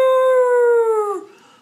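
A storyteller reading a bedtime rhyme imitates a lion roaring with a loud, sustained, howl-like voiced tone that slides down and breaks off, alone without other talk.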